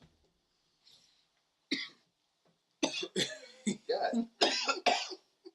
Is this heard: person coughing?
yes